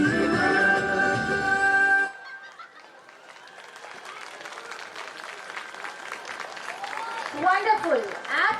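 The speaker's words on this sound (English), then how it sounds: "A huge round of applause for our little stars" An audience at a school annual concert breaks into steady applause that builds after music cuts off, many hands clapping at once with faint chatter and voices mixed underneath.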